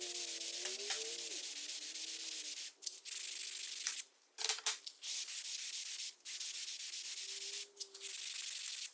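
Wooden arrow dowel being sanded by hand with 120 grit sandpaper, a close, continuous rasping scrub in long strokes with a few brief pauses, no talking.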